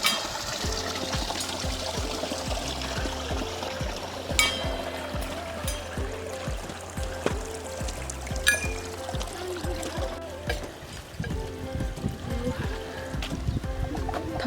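Water runs from a stone spout on a hiking trail, a steady close trickle and pour with irregular splashes and knocks, no speech.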